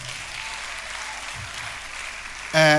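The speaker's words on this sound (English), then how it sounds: "please give a round of applause" A crowd at a stand-up comedy show claps in a steady, even wash of many hands, ending abruptly as a loud tonal burst cuts in at the very end.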